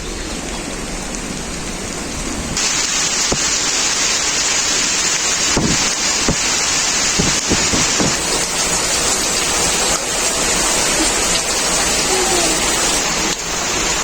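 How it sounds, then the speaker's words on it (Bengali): Rain begins falling during a monsoon-season home cooking session, a dense steady hiss that swells louder after the first few seconds and continues evenly, with some wind buffeting on the microphone. "দেখতে দেখতে বন্ধুরা এই যে বৃষ্টি আরম্ভ হয়ে গেছে।"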